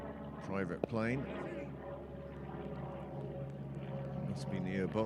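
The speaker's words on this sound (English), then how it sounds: "Sounds like a very small private plane." Above a club cricket match, a very small private propeller plane drones steadily at low volume nearly overhead, while a commentator talks over it throughout.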